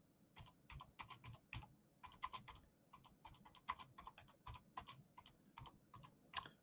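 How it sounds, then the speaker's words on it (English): Someone types on a computer keyboard with one hand, producing irregular, quiet clicks in uneven clusters and short pauses, close to the microphone. "Typing with one hand."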